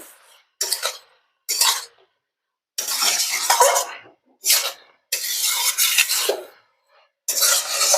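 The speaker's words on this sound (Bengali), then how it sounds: "এখন এইভাবে আমি খানিকক্ষণ ধরে একটু কষিয়ে নেব।" Garlic leaves, flat beans and brinjal with bori being stirred and sautéed in a pan, a spatula scraping and sizzling in repeated separate bursts with quiet gaps between.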